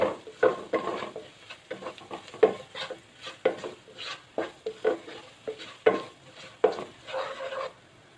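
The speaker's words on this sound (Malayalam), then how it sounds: "കാൽ ടേബിൾ സ്പൂൺ മഞ്ഞൾപ്പൊടി ഇത്രയും ചേർത്തിട്ട് നമുക്ക് ലോ ഫ്ലെയിമിൽ ഒന്നും കൂടി ഒന്ന് ഇളക്കി കൊടുക്കാം" Chili and turmeric powder stirred in a pan over a low flame for jackfruit beef biryani, a rhythmic series of spatula scrapes and taps against the metal with a soft sizzle between strokes, close and unaccompanied by talk.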